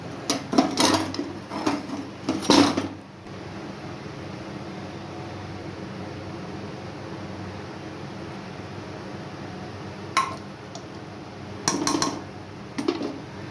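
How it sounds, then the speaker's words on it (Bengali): Metal pressure cooker lid being handled and opened to check mutton in a Bengali kitchen, giving a few clanking, scraping knocks early on and again near the end over a steady low background hiss. "এবারে আমি কুকারটা খুলে দেখে নেব মাংসটা সিদ্ধ হয়েছে কিনা।"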